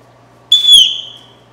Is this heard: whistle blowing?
yes